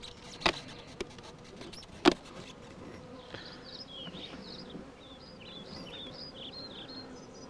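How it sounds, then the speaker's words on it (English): Honey bees buzz around an opened beehive during varroa mite dusting, a soft steady insect hum with a few sharp knocks early on and faint bird chirps in the background. "there's going to be an awful lot of bees buzzing around"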